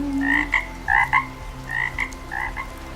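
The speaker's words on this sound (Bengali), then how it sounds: "বৃষ্টির খুশিতে ব্যাং গান গাইছে ঘ্যাঙর ঘ্যাঙর ঘ্যাং" Frogs croak in the monsoon rain in a quick series of four or five loud, raspy bursts over a low, steady background, close and clear with no talk.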